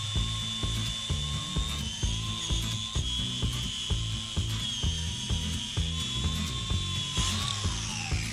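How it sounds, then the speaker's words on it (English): A battery-powered grinder fitted with a wire wheel whines steadily at high speed, a loud continuous tonal hum with rhythmic low rumbling pulses and a rasping edge that sweeps in pitch near the end, close to the listener. "I like to do it with a battery powered grinder"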